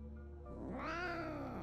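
A single drawn-out cat meow in the horror video game NextDoor, rising then falling in pitch, fairly quiet and alone.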